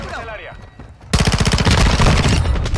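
SMG fire in Call of Duty: Modern Warfare II erupts after a brief voice-like sound and continues as a loud, rapid, evenly spaced burst of shots to the end.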